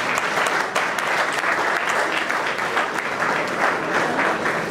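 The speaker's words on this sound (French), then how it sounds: "Applaudissez bien." An audience at an Itel smartphone launch event in the DR Congo applauds steadily, a dense wash of clapping hands that holds at an even level for the whole stretch with no break.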